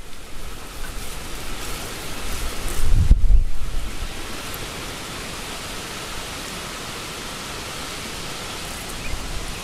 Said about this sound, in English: it's a little breezy. You might be able to hear the breeze.